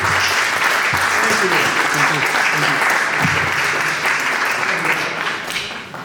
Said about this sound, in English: Big round of applause again, please.